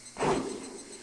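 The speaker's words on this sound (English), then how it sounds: "That was the sound of him swinging." A single quick whoosh rises and fades over about a second, a bat swung hard through the air close by, followed by a faint lingering hiss.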